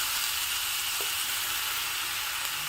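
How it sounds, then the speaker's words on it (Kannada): Smashed cooked raw jackfruit dropped into hot tempering in a pan, giving a steady, soft, broadband sizzle that holds evenly throughout without talk. "ಒಗ್ಗರಣೆ ಹಾಕಿದ್ದ ಹಾಗೆ ನಾನಿಲ್ಲಿ ಬೇಯಿಸಿ ಸ್ವಲ್ಪ ಹೀಗೆ ಸ್ಮ್ಯಾಶ್ ಮಾಡ್ಕೊಂಡಿರುವಂಥ ಹಲಸಿನ ಗುಜ್ಜೆಯನ್ನು ಹಾಕ್ತಾಯಿದ್ದೀನಿ"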